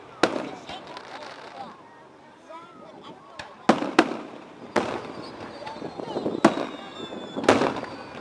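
Fourth of July fireworks burst in a series of sharp booms and crackles at irregular intervals, some near and loud, with people talking between the explosions.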